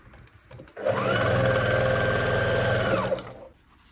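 A sewing machine whirs in one steady burst of about two and a half seconds, stitching down a denim jacket collar, close and alone.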